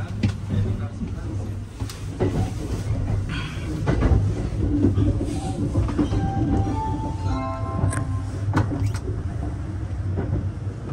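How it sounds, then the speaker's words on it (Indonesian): Double-decker sleeper train running between Okayama and Tokyo, a steady rumbling roll with faint clacks and squeals throughout, with people talking over it. "ini kereta double decker"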